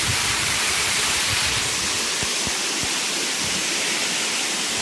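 A wonderful waterfall pours as a loud, steady, broadband rush, continuous and close, with no voices over it.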